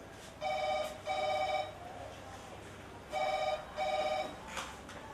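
A telephone rings indoors in a theatre drama, sounding two double bursts of bright electronic trills separated by a pause, moderately loud over a faint background hum.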